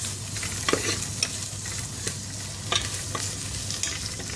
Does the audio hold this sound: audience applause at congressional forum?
no